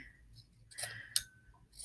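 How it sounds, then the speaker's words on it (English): Scissors cut along the seam of a cotton t-shirt in a quiet indoor space, giving two or three faint, crisp snips with soft rustling between them. "I'm just going to take my scissors and I'm going to cut along the seam here"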